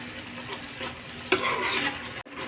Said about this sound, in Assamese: এতিয়া এইখিনি মই ভালদৰে লৰাই দিছোঁ।